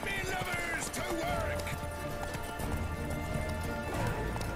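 Horse hooves gallop in The Witcher 3, a fast continuous clip-clop of a ridden horse, loud and close, mixed with game effects and a neigh.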